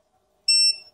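A Beninca gate automation receiver beeps once while an ARC remote is being programmed. The short, clear electronic tone lasts about half a second and sounds alone, with no talking.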